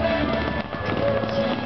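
Fireworks bursting over a baseball stadium after a minor-league game, a dense continuous rumble of crackling explosions with no clear gaps, a voice faintly present in the background.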